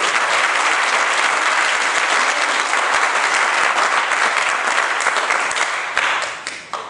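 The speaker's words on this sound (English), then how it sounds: "give the Lord the best hand clap of praise" A church congregation gives a hand clap of praise during a preaching service, dense sustained applause filling the room loudly for several seconds before tapering off at the end.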